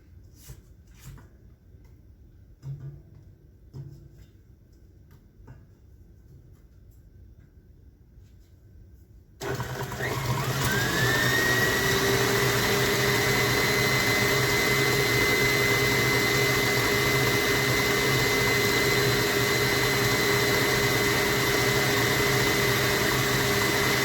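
An electric mixer blending red velvet cake batter is quiet at first with a few faint knocks, then switches on abruptly and runs as a loud, steady whirring drone with a rising whine as it spins up.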